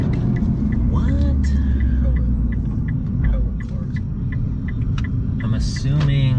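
Lamborghini rolling in with a low steady engine rumble, close by, while people talk over it.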